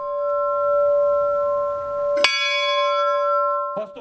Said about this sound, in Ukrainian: мали можливість вдарити в дзвін.